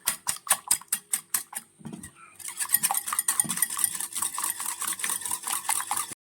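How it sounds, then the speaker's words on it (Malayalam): Rapid rhythmic clicks of a whisk beating eggs for scrambled eggs in a bowl, then a busier, continuous clattering whisking close up. "അപ്പോൾ നമ്മുടെ ഈ മുട്ട എത്ര നന്നായിട്ട് ബീറ്റ് ചെയ്യുന്നോ അത്രയും സോഫ്റ്റ് ആയിരിക്കും"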